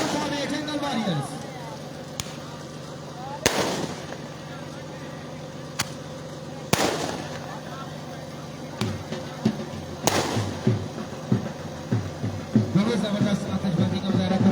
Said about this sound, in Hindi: जबरदस्त आतिशबाजी का मुजाहरा